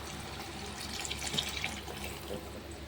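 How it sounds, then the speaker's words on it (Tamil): Water poured from a vessel into a pan of simmering vegetable kurma curry during cooking, a steady splashing pour running continuously at moderate level, close by and with no one talking. "நம்ம இப்போ இந்த தண்ணியை சேர்த்தோம்னா"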